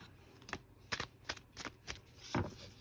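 Tarot cards are shuffled and flipped close by in a quiet room, giving a string of crisp, papery riffles and slaps at an uneven rhythm, ending in a louder, fuller shuffle.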